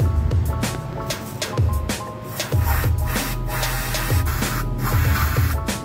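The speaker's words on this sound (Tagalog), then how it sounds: "Sige, spray nyo lang, huwag nyo tipirin." Rustproofing coating is sprayed onto a Honda BeAT v3 motorcycle in short, repeated hissing bursts with a faint pulsing pump rhythm, heard up close in a steady, busy sequence.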